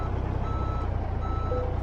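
Truck reversing beeps sound at a loading bay in the American Truck Simulator game, a steady high-pitched alarm over a constant low engine rumble, close and continuous.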